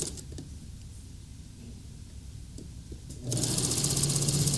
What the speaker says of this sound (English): So I'm going to top stitch from both sides.